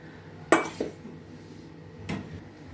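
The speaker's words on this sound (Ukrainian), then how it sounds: "І додаємо борошно ну, і все вимішуємо до однорідної маси без грудочок." A utensil clinks against a bowl while flour is mixed into batter for a mushroom pie, giving two sharp knocks about a second and a half apart over a faint background, close by.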